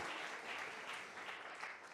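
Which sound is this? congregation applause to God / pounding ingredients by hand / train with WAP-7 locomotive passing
congregation applause to God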